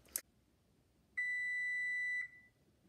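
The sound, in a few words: kitchen timer beeping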